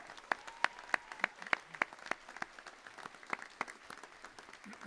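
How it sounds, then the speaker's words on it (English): A graduation ceremony audience applauds with sparse, distinct claps standing out over softer scattered clapping, moderately distant in a large hall. "So cheer your colleagues as well who are graduating."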